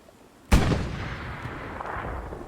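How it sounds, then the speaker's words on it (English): A German tank's cannon fires once in Hell Let Loose, a single sharp, heavy boom with a long rolling reverberation, followed by a faint distant thump under low battlefield ambience. "that's where that German tank is shooting from"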